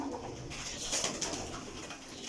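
Steady, soft cooing from a Teddy pigeon, close and continuous with a slight swell in the middle and no talk.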